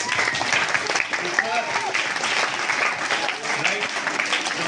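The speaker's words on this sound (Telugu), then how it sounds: "give a big round of applause to school" An audience at a school Prize Day celebration applauds steadily, dense clapping filling the room for several seconds at a moderate, even level with a faint crowd murmur beneath.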